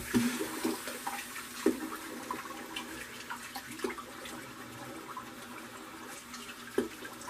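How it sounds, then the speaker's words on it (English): Water running at a sink while a person rinses their face, a steady soft rush with occasional splashes and spatters, close and quiet, with no talk. "Alright, I'm going to attempt to rinse my face here."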